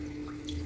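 A kitchen sink tap runs steadily during dishwashing, producing a brief, even rush of flowing water that sounds close and moderate in level.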